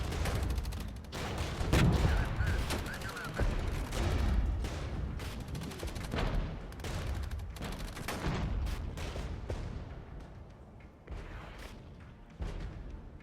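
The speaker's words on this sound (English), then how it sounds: "Let's focus fire on that T-72 group." Scimitar light tanks open fire on a group of T-72s in the Regiments war game: repeated sharp cannon shots and bursts of gunfire, some overlapping into rolling volleys with booms, loud and dense, thinning out toward the end.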